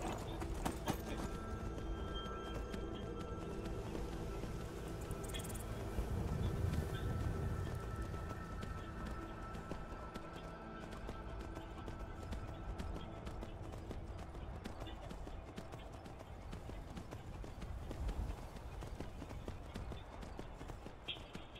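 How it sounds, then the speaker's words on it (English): Horse hooves clip-clopping in a steady rhythm while riding through Skyrim, with a brief whinny partway through and game ambience underneath, moderately quiet. "Riding on a horse,"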